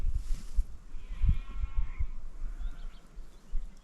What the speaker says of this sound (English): there's obviously a bunch of sheep which you saw